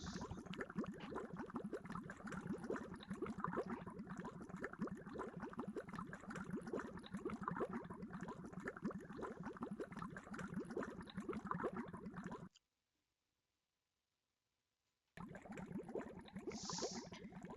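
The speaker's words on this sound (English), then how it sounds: "We've got gurgling. Love the sound of gurgling." A Gregtech machine in Minecraft gurgles and bubbles in a continuous, fairly quiet churn, cuts out for a couple of seconds, then resumes.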